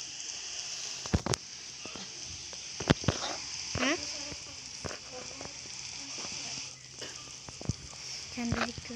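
Steady soft hiss of rain falling in Minecraft, with scattered clicks and short game noises over it and a faint voice in the background.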